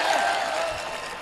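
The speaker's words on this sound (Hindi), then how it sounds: "एक बार तालियां बजाइए आप" Audience applause at a Hindi-Urdu mushaira poetry gathering in Raniganj, a brief dense wash of crowd clapping that stays fairly steady at moderate loudness.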